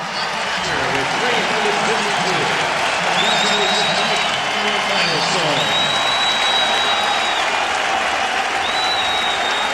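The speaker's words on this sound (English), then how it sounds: "The entire Met team standing on the top step of the dugout awaiting Mike and applauding" At a Mets home game against the San Francisco Giants, the Mets team on the dugout step and the stadium crowd applaud and cheer Mike in a loud, sustained roar, with a broadcaster's voice running beneath it.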